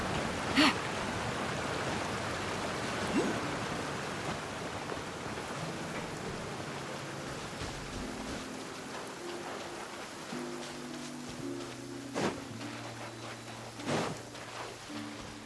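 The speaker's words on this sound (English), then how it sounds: "It's raining again?" Steady in-game rain from Genshin Impact patters on surfaces throughout, a broad hiss with scattered drops, while soft game music tones drift in over the second half.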